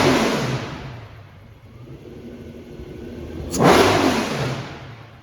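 A 2016 Ferrari V12 engine in a 1968 Ferrari P4 replica revs up sharply near the end, rising from a steady running drone into a loud, brief burst of acceleration, heard close by with no talking.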